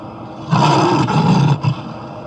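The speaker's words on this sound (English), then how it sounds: "That's right, he's a lion." A lion lets out a single loud, deep, rumbling roar lasting about a second, with a short grunt tailing off, close and clear against a quiet background.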